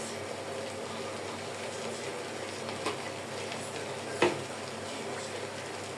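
Fried rice stir-fries with soy sauce in a pan, making a constant even sizzle with a couple of brief clacks from the spatula and no talk.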